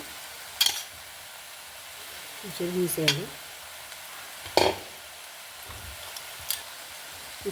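Cucumber pulp tossed into a hot pan with a little salt, giving a soft background sizzle broken by a few sharp scrapes and clacks of stirring, with brief speech in between.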